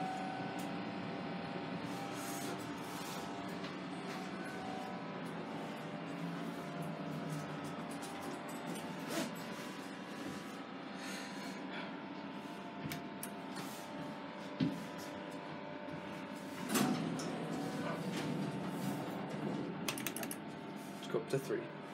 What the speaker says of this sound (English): That's a pretty nice motor.